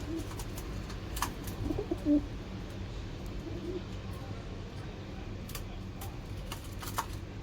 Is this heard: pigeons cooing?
yes